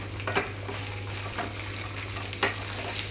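Chopped fresh coconut fries in a pan for a tomato and dried red chilli chutney, giving a soft, steady sizzle with occasional stirring scrapes and no voices.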